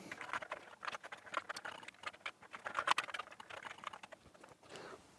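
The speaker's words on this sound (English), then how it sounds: "the keyboard just feels like crap to type on" Keys tapped on an Atari 8-bit computer keyboard whose spacebar is broken, a close, uneven run of quick clacking presses that pauses briefly near the end, with no talking.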